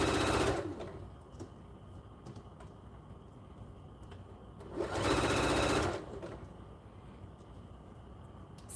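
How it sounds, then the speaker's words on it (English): Sewing machine stitching blankets, running in two loud bursts of steady mechanical whirring, about half a second and then a second long, with quiet room noise and faint clicks between them. "This is my blanket machine. I will never use a different machine for my blankets."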